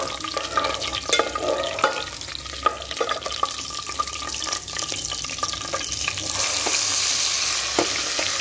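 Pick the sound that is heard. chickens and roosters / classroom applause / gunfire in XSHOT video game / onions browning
onions browning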